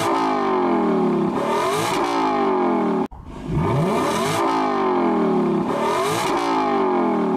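A Lexus LC 500 in Forza Horizon 5, its engine and exhaust roaring loudly through rising revs, with a brief cut at a gear change before it pulls hard again in a sustained, throaty climb.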